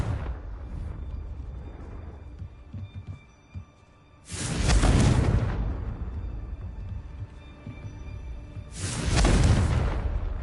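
Two heavy, booming blasts from the Confringo fire spell in the Hogwarts Legacy video game, spaced about five seconds apart, each swelling loud and rumbling before trailing off over quieter game ambience.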